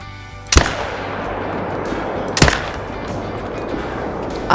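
A Zarza .308 rifle fires twice in theHunter: Call of the Wild, two sharp, loud cracks about two seconds apart over a steady outdoor ambient bed.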